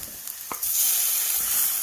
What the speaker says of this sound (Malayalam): ഇനി നമുക്ക് ഇതിനകത്തോട്ട് ചിക്കൻ ഇട്ട് കൊടുക്കണേ